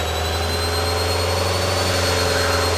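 The Piper Arrow's piston engine drones loud and steady at takeoff power during a soft-field takeoff roll. A strong low hum and a high propeller whine hold constant through the whole stretch.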